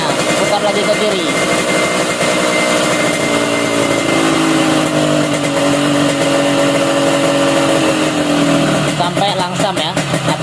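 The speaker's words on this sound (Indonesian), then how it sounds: "sampai enak bunyi knalpotnya, nggak terlalu besar dan jangan terlalu kecil" Small motorcycle engine idling steadily after a carburetor mixture adjustment, a continuous near hum with a slight pitch drift, and a faster rattling burst near the end.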